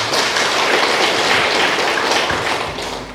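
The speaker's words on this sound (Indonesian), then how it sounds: "Kita tepuk tangan untuk kita semua." Crowd of villagers clapping together at a community declaration event in Indonesia, a dense steady roar of applause filling the space before tapering slightly at the end.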